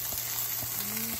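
Spices sizzle and fry in a hot pan at home, a steady close crackle with a few soft stirring scrapes over about a second.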